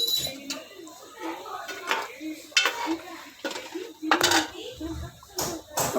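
A spoon stirs spices into aloo anday curry in a pot, giving close metallic clinks and scrapes against the pan, with someone talking over them throughout.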